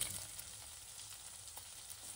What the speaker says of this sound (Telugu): అలానే కొత్తిమీర కూడా వేసేసుకొని ఒక 2 నిమిషాలు ఫ్రై చేసేసుకొని